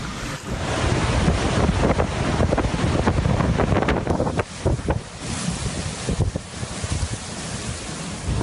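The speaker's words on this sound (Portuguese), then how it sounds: "o furacão está passando bem forte agora, muito barulho" Hurricane Irma's strong wind roars continuously through the night storm with heavy rain, a loud dense rush that buffets the microphone, with surging gusts and no voices.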